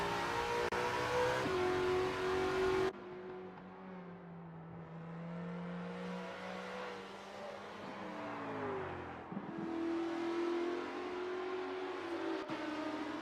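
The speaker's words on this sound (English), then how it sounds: "Some great driving from Jamie Ray Nichols, who has increased their lead over Ernest Heather" Race cars in a Group C championship race roar steadily, engines revving and shifting pitch as they pass, with a continuous loud drone and no voices.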